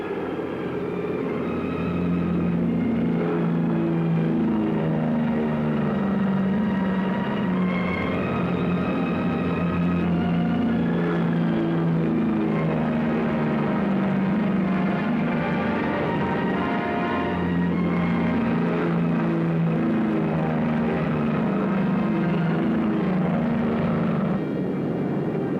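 A military airplane takes off with its engine at full throttle, a loud, steady droning roar with a humming tone that holds for the whole stretch, no voices.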